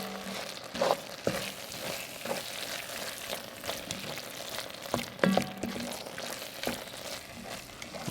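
Flour is stirred into onions frying in a pot for French onion soup: steady close sizzling with scraping spoon strokes and occasional knocks against the pot.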